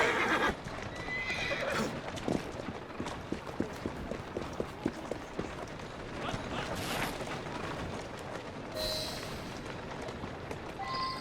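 Horse hooves clip-clop on a street in Assassin's Creed Syndicate amid busy game ambience, with a whinny and faint voices in the mix.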